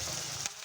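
Salt, turmeric, chilli powder and cumin frying in a pan, giving a brief, steady close sizzle that drops in intensity near the end.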